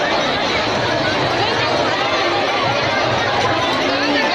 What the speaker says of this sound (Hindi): इतनी भीड़ है, इतना शोर है कि कुछ कहना बहुत मुश्किल है